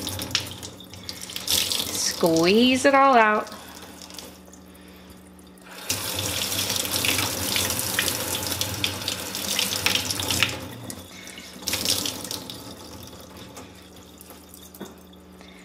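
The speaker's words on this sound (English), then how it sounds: "There's still soap in here, so that means I just need to rinse a few more times." A beauty blender makeup sponge is rinsed under a running bathroom tap, with steady splashing water in two long stretches, a short squeeze and drip between them, and a brief spoken phrase near the start.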